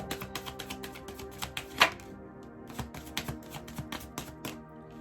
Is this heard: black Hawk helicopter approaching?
no